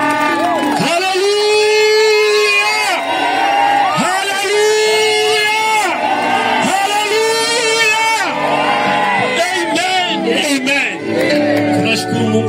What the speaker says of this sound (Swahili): Tumpigie Bwana Yesu makofi mazuri, shangwe na vigelegele